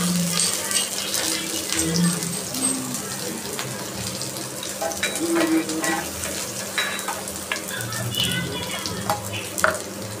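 Dry coconut roasts in a pan while being stirred, making a continuous close scraping and soft sizzling with occasional clinks of the spoon against the pan.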